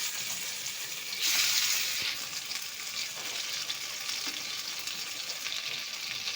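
Pieces of taro leaf fry in mustard oil in a hot wok with a steady, loud sizzle throughout, swelling briefly into a fiercer hiss near the start before settling back.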